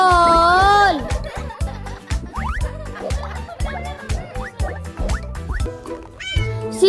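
A cat meows at the start, followed by a bouncy musical backing with steady beats and a few short vocal sounds, fairly loud and close.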